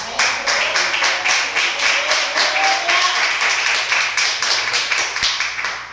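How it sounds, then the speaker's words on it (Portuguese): A church congregation claps in steady, rapid rhythm, loud and close, the applause sustained throughout without speech. "Vamos aplaudir ao Senhor por isso?"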